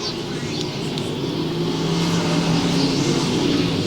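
IMCA race car engine getting back on the throttle at I-35 Speedway, a distant roaring drone under crowd and track ambience, rising slightly toward the end.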